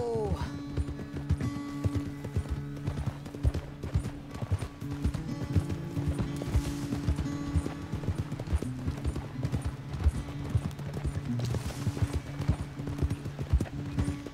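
Horse hooves clip-clop steadily on a trail in the video game Red Dead Redemption 2, a continuous near rhythm of hoofbeats under game music, with occasional louder thumps.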